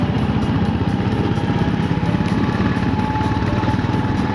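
Cruiser motorcycle engine while riding, a steady low rumbling thrum with fast even pulses, loud and close with rushing wind noise, continuous with no talk.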